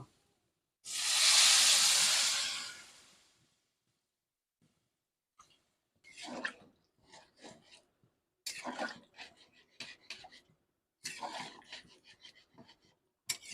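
Water poured into a hot pan of potatoes and soybean chunks fried with spices, giving a loud sizzling hiss that fades over a couple of seconds, followed by faint scattered clinks and a voice.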